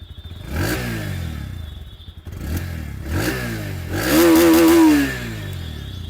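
A Bajaj Pulsar NS160 motorcycle's exhaust rumbles at idle, then is blipped and revved several times in short bursts, finishing with a longer, louder rev close to the microphone.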